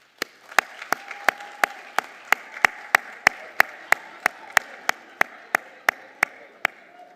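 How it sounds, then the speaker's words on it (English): Sharp, evenly spaced claps at a graduation ceremony sound one by one, about three per second, crisp and close against a faint background. "give those who have supported us the round of applause"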